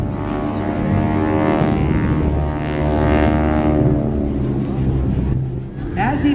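A solo aircraft roars steadily overhead during a Jones Beach air show, its engine drone swelling and fading slightly under continuous announcer commentary.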